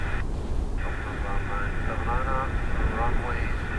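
A jet airliner takes off from a Dublin Airport runway, its broad steady engine roar filling the background while radio-style voices talk over it.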